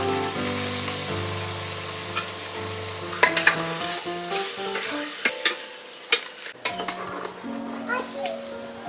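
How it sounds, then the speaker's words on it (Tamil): Mutton pieces hit hot oil for chukka varuval, giving a continuous sizzle with sharp clinks and scrapes of stirring, heard beneath a person talking. "எண்ணெய் நல்லா காஞ்சிருச்சு. கறியை போடும்."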